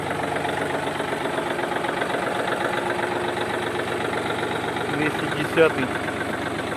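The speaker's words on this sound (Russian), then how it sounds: "Трактор работает отлично." A Yanmar F210 mini tractor's small diesel engine idles steadily up close with a rough, knocking chug, and a brief clunk sounds near the end.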